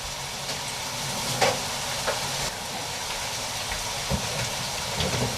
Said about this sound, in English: So the pineapple is really cooking in the oil.